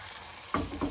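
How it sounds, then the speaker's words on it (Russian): Pancake batter hits a hot pan and breaks into a sudden loud sizzle halfway through, after a quiet start. "чуть меньше половника я выливаю на сковородку и продолжаю жарить"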